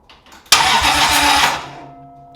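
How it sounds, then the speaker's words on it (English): Toyota 2JZ engine cranking over on a freshly swapped spare battery, a sudden loud burst of starter and engine noise that holds steady for about a second, then fades into a faint lingering hum. "we get crank. The engine's turning over."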